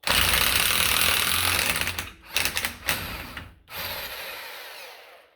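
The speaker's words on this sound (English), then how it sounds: "Otherwise, you are going to have to use an impact gun." An impact gun works on a Mercedes wheel during reluctor ring replacement, giving loud rattling bursts, a long burst first and then several short choppy ones separated by brief silences, close by with no talk.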